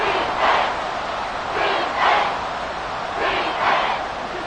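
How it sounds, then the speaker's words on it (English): A football stadium crowd roars through a late fourth-quarter Bengals game, a broad, steady wall of noise that swells in repeated waves of cheering. "This crowd doing all they can."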